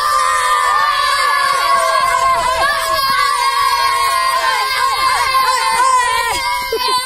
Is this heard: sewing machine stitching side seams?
no